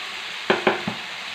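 Cauliflower and potato curry with ginger paste, salt and chilli powder being stirred in a pan: three quick scraping strokes over a constant low sizzle, close by.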